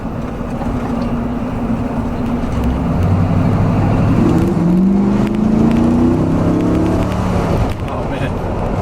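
A V8 swapped into a 1983 Buick LeSabre B-body wagon, LT1 engine, rumbles steadily while driving, rising in pitch as it accelerates midway, with a mild, not-loud exhaust note under cabin noise.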